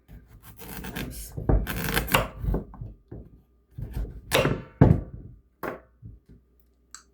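A knife chopping a small pumpkin on a board, an irregular run of close, dry thuds and cuts in quick bursts with short pauses between, no speech.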